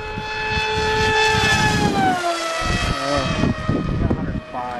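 A fast scratch-built electric RC plane screams past at high speed, its whine rising and then dropping in pitch with a Doppler sweep, loud and close while people talk over it.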